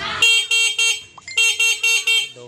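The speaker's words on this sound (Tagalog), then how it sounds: "Ito yung kanyang busina." A Euro 150 motorcycle horn honks in quick short bursts, three toots, a brief pause, then four more, loud and close with a bright buzzing tone.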